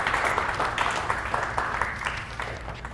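Applause from an audience follows a business presentation on economic impact. Steady, dense clapping continues for a few seconds.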